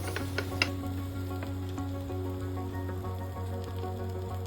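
An omelette for anda pav fries in a hot pan with a steady, close sizzle, a few sharper crackles early on, and a low hum underneath. No one speaks.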